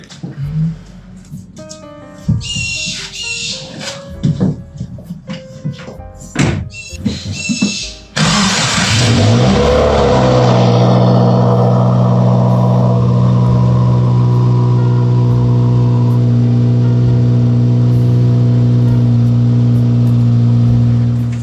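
A car engine starts after some clunks and handling noises, then idles steadily and loudly close by for a long stretch.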